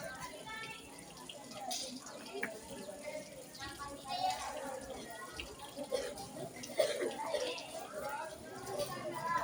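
Water is poured into a homemade water purifier, splashing and trickling faintly in uneven bursts, with a voice and other talk in the background.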